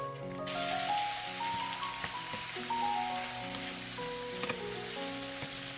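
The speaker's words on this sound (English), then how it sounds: "I added the beef strips to a skillet and then browned them." Beef strips browning in a skillet, a steady hiss of frying running throughout with faint crackles, close and moderately loud, no talk, with soft tonal background music underneath.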